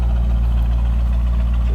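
A 2003 Chevrolet Corvette convertible with its stock exhaust idles nearby, a steady low rumble with even, smooth pulsing and no breaks.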